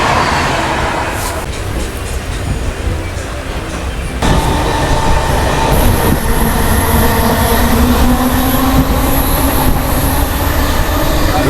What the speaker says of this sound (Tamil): பனாரஸ் கன்னியாகுமரி போகிற வீக்லி எக்ஸ்பிரஸ்